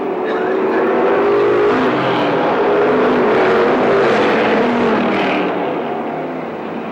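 Race cars lapping an oval track, a dense continuous engine roar at close range that swells and fades slightly as the pack goes by, with a race announcer talking over it.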